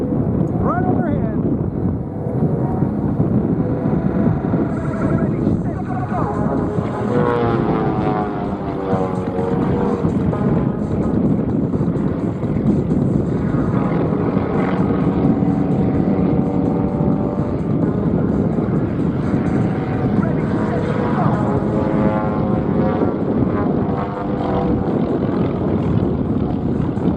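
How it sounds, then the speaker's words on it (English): Two home-built aerobatic planes fly overhead in close formation at an airshow, their propeller engines droning loud and steady with a sweeping pass, under a commentator's continuous talk and wind noise. "remarkable home-built aircraft"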